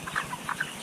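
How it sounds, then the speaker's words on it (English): Free-range meat chickens on a Norfolk farm give several soft, close clucks in quick irregular succession, with no talk over them. "Chickens at this farm in Norfolk, reared for meat, can once again range free."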